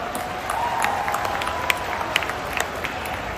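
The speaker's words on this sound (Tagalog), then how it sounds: "Palakpak." Crowd at an outdoor PDP Laban political rally clapping after a call for applause, a steady wash of many hands with a few sharper claps standing out, no speech over it.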